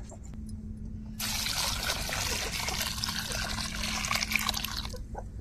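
Hot water poured over freshly caught prawns, a close, steady splashing pour that starts abruptly after a quiet moment and runs for several seconds before stopping.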